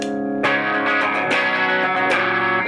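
Electric guitar through an MXR Dyna Comp compressor pedal playing sustained chords with an even, compressed tone, loud and steady with strums roughly every second.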